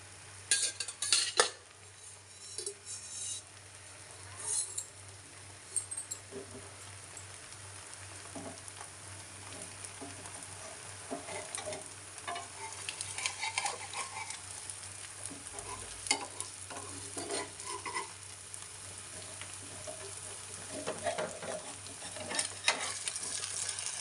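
Chapati egg roll frying in oil on a pan, a steady close sizzle with clinks of a spatula or utensil against the pan throughout, no talking.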